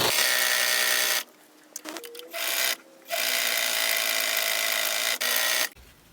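A sewing machine chain-pieces denim quilt blocks, running in long steady bursts of rapid stitching with several short pauses between blocks as fabric is fed through.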